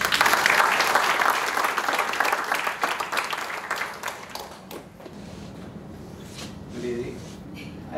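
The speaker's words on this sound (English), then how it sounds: "Give a big clap to him." A meditation talk audience breaks into loud applause that thins and fades over a few seconds, leaving a quieter room with scattered claps and faint voices.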